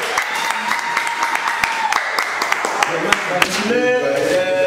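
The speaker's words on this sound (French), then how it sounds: "Applaudissez pour les groupes universités" Clapping for university groups at a project presentation event, sharp individual claps from a modest gathering, close and loud, mixed with background tones and some voices.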